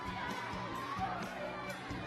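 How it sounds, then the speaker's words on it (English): Crowd cheering and shouting at a sponsored track event, steady dense roar of voices including children, moderately distant and continuous through the short stretch. "Everybody cheer."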